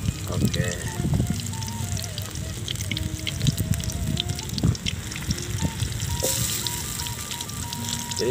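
Slices of papaya sizzle and crackle as they fry in hot oil, a steady bubbling hiss with small pops running throughout, close by and moderately loud, while a voice talks over it.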